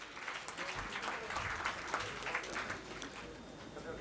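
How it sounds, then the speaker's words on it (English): Audience applause at a housekeeping leadership event, a continuous, fairly faint crackle of many hands clapping that rises and falls slightly, with some voices mixed in. "Let us give a round of applause for sir."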